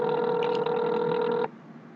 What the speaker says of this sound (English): I call you, and you don't answer the phone.